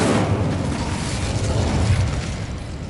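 Incendio fire spell blast in Hogwarts Legacy, a loud, sustained roaring whoosh of flame that fills the whole moment without a break, with no voices over it.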